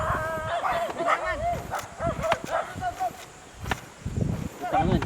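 A dog barks and yips repeatedly at close range with whimpering, broken bursts spread across several seconds while people talk nearby.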